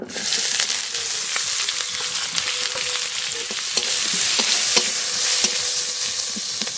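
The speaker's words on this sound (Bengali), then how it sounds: "জিরেটা আগে একটু ভাজা ভাজা করে নেব বাকি মশলাগুলো একসঙ্গে দিয়ে দেবো" Cumin and ground spices fry in hot oil with a dense, close sizzle, punctuated by regular clicks and scrapes of a spoon stirring against the pan.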